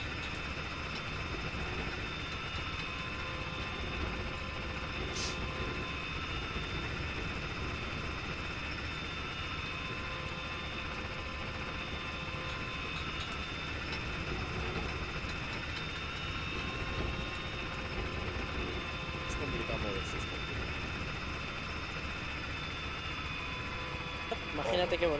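A helicopter in ARMA 3 drones steadily with a constant engine and rotor hum heard from inside the cabin, while people talk over it.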